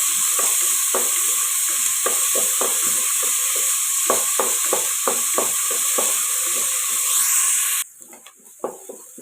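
Steady frying sizzle and hiss of onions sautéing in a pressure cooker, with repeated scraping stirs of a spoon, then a sudden drop to quieter sizzling near the end.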